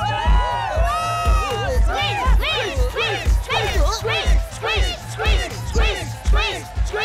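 A cartoon crowd at a party shouts and chants a name in rhythmic, overlapping bursts of cheering voices over a steady thumping beat, loud and lively throughout.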